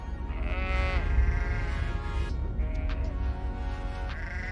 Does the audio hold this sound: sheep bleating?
yes